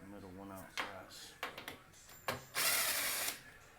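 A power driver with a 1/4 inch bit backing screws out of a stove, giving a few short whirring bursts and a longer run near the end, close, with someone talking in between.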